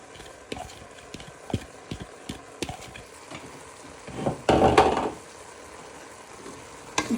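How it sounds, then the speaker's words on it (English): Beef mince with onion, garlic and ginger, prepared for a Chinese beef stir fry, sizzles quietly in a pan, with sharp scraping clicks from stirring and a louder burst of frying midway; no talking. "Now you want to add in your onion, garlic and ginger to your mince."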